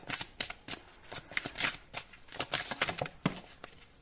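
Tarot cards are shuffled close up in quick, uneven bursts of riffling and flicking, short papery slaps tumbling over one another with tiny pauses between.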